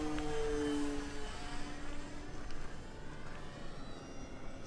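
A remote-control Cessna 182 model airplane with a brushless motor runs at full throttle, giving a steady droning whine with faint tonal overtones and a rough background hiss throughout.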